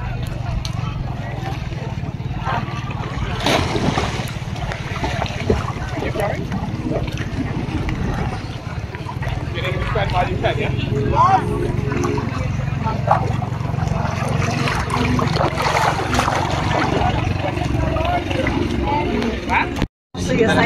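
Small island-hopping boat crossing choppy sea near Port Barton, Palawan, with a continuous engine rumble, wind buffeting and water slaps, and voices talking over it.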